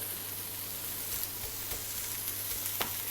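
Marinated pork sizzles in a pan for fried rice with Chinese sausage and egg, a steady close hiss of frying broken by a few soft scrapes and taps of stirring, with no talk.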